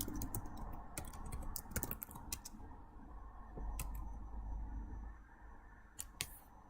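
Clicky mechanical-keyboard sounds generated by Mechvibes software while typing on a computer: bursts of rapid, crisp key clicks with short pauses between them, close and fairly quiet, with no talking.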